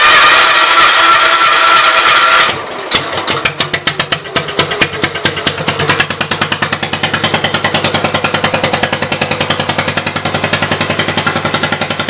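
A 1974 Case 220 garden tractor engine cranks briefly, then catches and runs on its own, a loud, close, steady rapid chugging beat with no talk.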